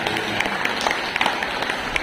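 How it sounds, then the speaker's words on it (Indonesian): Audience clapping for parents at an elementary school parenting session, a short burst of scattered applause from a crowd, fairly close and steady. "Tepuk tangan buat orang tua dari Pak."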